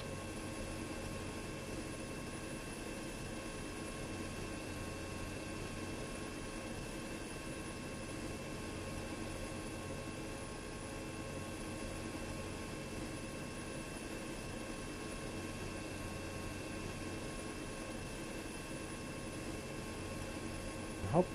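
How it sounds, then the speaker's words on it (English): Steady, continuous drone of a Mi-8 Hip helicopter's large rotor blades and engine in a video game, heard close and even throughout at constant loudness, with no voices. "This hip has big rotor blades."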